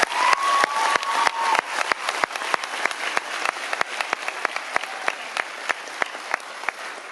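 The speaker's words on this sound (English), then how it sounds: "Round of applause for her and the other graduates." Applause from a graduation ceremony audience at a 2018 FBCS graduation: a steady wash of many hands clapping, with sharp individual claps standing out throughout and slowly thinning toward the end.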